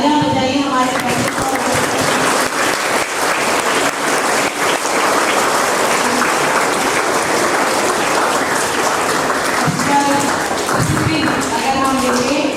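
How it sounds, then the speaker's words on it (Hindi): A school audience at a Hindi Diwas programme applauds its captain with loud, dense, sustained clapping that fills the whole stretch, while voices carry faintly underneath. "जोरदार तालियां बजाइए हमारे कैप्टन"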